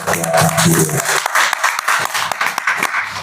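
Brief applause from an audience at a local Nahdlatul Ulama branch meeting electing new officers, a burst of clapping that quickly thins into scattered claps with voices murmuring underneath.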